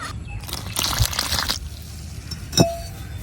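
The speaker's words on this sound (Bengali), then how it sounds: "এখন ময়দার মধ্যে আমি অল্প অল্প পানি দিয়ে একটা রুটির ডো বানাই নিলাম।" Room-temperature water is added a little at a time to flour mixed with oil and salt for paratha dough: a brief wet splash and rustle, then a single sharp glass clink, close and quiet.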